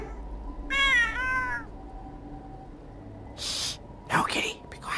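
Cat meowing in a pirate adventure game, two drawn-out, clear mews up close, followed by hushed whispery voices and a short breathy gasp.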